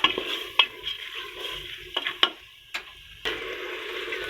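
Whole masoor lentils are stirred and roasted in a pan, giving a soft continuous sizzle broken by several sharp scraping clinks of the spoon against the pan, near and moderately loud.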